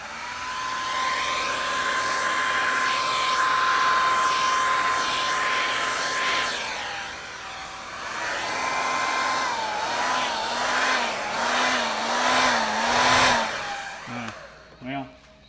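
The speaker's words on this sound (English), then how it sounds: "blow this over the main area of paint with the hairdryer" A hair dryer blows steadily and close by over acrylic paint on a canvas, a loud whooshing motor hum whose pitch wavers as it is moved around, then cuts off abruptly near the end.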